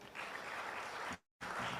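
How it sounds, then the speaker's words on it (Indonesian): A crowd claps steadily, dense applause that cuts off abruptly for a moment, then resumes just as full. "Boleh berikan tepuk tangan."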